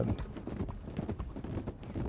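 An Appaloosa horse in the Western video game Red Dead walks along, its hooves clip-clopping in a steady rhythmic beat at moderate volume, with no voices over it.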